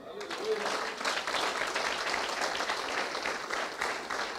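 A church congregation claps in praise during a sermon in Brasília, a sustained, fairly faint crowd applause that keeps a steady texture throughout.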